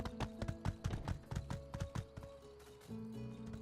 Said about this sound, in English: I do love riding my horse though.